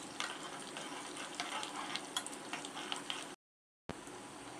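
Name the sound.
stirring cashews and raisins in hot pan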